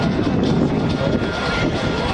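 A KC-135 military aircraft at an air show, a loud, steady roar of jet engines passing close by with no break, while an announcer's voice sounds underneath.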